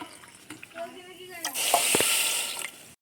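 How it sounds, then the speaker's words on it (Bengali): Water is poured over sugar and cardamom in a pot for syrup, a short splashing gush in the last half of the clip that follows a woman's speech. "চিনির সাথে জল দিয়ে দিচ্ছি"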